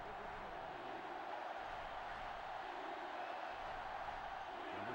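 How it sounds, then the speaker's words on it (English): A stadium crowd roars in the NCAA Football 2005 video game during a Penn State matchup, a dense, steady wall of cheering that stays constant throughout with no clear peaks. "this crowd is going absolutely insane"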